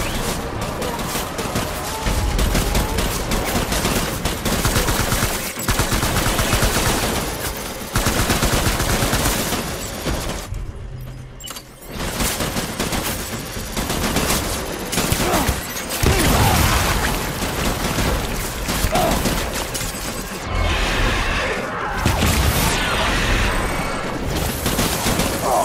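Sustained gunfire from Death Stranding: dense, continuous bursts of automatic shots fill almost the entire stretch, loud and close, with one brief lull partway through.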